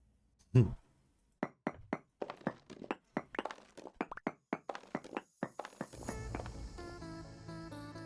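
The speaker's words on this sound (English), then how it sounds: "using my knife like an axe" Knife swung like an axe to chop wood in Vintage Story, a steady series of about fifteen sharp, close thunks in quick rhythm, followed by a brief rising crackle of a block breaking.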